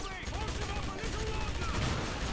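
Gunfire from a weapon in the first-person shooter Wolfenstein, a dense continuous burst of shots with no pauses, heard alongside game music and other effects.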